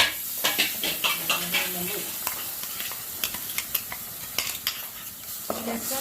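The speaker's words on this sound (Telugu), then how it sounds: "మొత్తం ఫ్రై మొత్తం కలుపుకోవాలి" Okra masala curry with tomato paste frying and being stirred in a pan, a steady sizzle broken by repeated clinks and scrapes of a spoon against the metal, close and fairly loud, with voices faint beneath.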